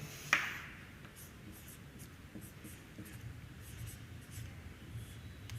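Pen or chalk writing during a class 12 physics lesson on electrostatics: a sharp tap at the start, then steady soft scratching strokes continuing close and quiet, with no talk.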